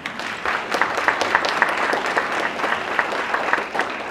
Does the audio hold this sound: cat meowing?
no